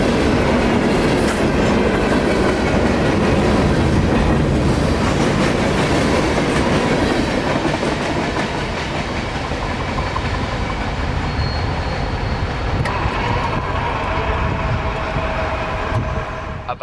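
A long Amtrak train, Q452 out of Miami, rumbles past close by in Central Florida, wheels clattering steadily over the rails for the whole stretch, loud and continuous.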